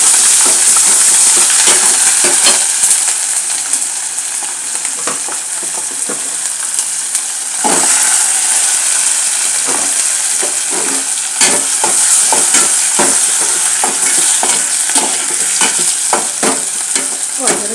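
Onions fry in a pan with ginger garlic paste, a loud, steady sizzle broken by frequent scrapes and clicks of stirring, close up and continuous with no voices.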